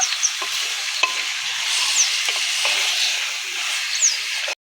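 Chicken and peas frying dry in spices with no water, stirred steadily: a continuous close sizzle with periodic scraping strokes and spatula clicks throughout.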